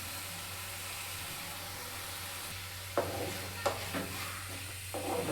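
Coriander leaves and peanuts sautéing in a pan for a coriander chutney give a steady low sizzle, joined after a few seconds by several short scraping stirs from a spatula, close and moderately loud, with no talking.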